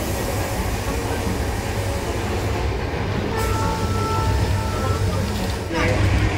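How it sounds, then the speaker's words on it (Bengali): The Padatik Express pulls out of the station on its Kolkata to New Jalpaiguri run, a loud continuous rumble and rolling clatter of carriages heard close by, with people talking over it. "এই ওই যে ছেড়ে দিয়েছে ট্রেন।"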